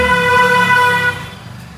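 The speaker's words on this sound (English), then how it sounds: "People horn like anything." A loud horn blares in Varanasi street traffic with tuk-tuk rickshaws nearby. A single sustained honk sounds close and dominant over a low engine rumble, then cuts off.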